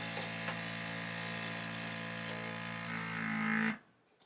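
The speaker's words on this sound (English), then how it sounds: "Maybe we'll do one more cycle just to make sure we got maximum vacuum from the Nuwave." A Nuwave vacuum blender running its vacuum cycle, a steady loud electric motor whine and buzz that rises slightly before cutting off abruptly, leaving near silence.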